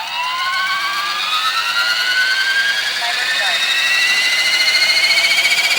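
A 450-size 3D-printed RC sky crane helicopter spools up, its rotor and motor whine climbing steadily in pitch, loud and close, with a faint voice underneath.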